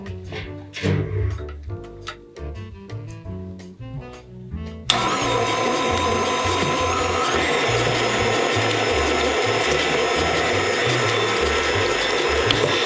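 An electric mixer churns chocolate chip cookie dough, starting with several short bursts and then running continuously with a loud, steady whirring grind for the rest of the clip.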